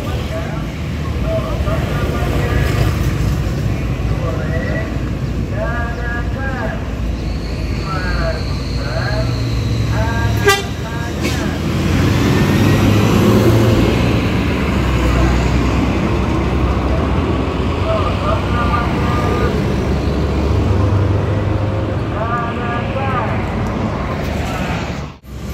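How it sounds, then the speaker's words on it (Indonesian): A bus pulling out of a rest area parking lot in West Sumatra, a loud continuous engine rumble and roadway noise with passing vehicle sounds, under ongoing voices. "Satu unit Palala dengan julukan Mugello E14 sudah bergerak keluar parkir Omega untuk melanjutkan perjalanan."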